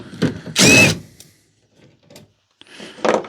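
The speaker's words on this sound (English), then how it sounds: "Am I using an impact on this?" An impact driver works on a 2009-2014 Ford F150 headlight, a short loud whirring-hammering burst followed by quieter clicks and a second brief run, close up in a garage.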